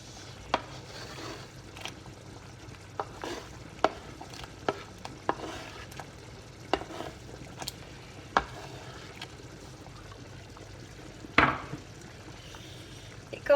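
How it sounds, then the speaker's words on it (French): A spoon stirs gnocchi cooking in a pot, giving scattered light clinks and scrapes against the pot over a low, steady bubbling background, with no talking. "Je vais juste mélanger pour bien que voilà, ils chauffent indépendamment les uns des autres."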